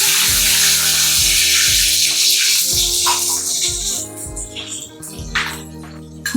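A loud hiss and sizzle as water hits a hot oil tempering for khaman dhokla, with background music and the sizzling gradually fading.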